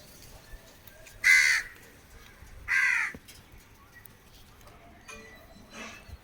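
Crows caw twice in loud, harsh calls close by, with fainter caws following further off against quiet outdoor background.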